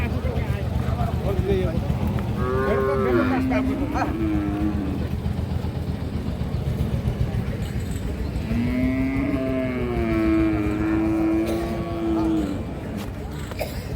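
Two long, loud moos from a small four-tooth Holstein Friesian cow, close by, over steady outdoor background noise.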